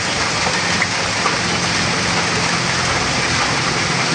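Steady rain pours down outside a home, a dense, even hiss of drops on surfaces that holds constant throughout, loud and close with no voices.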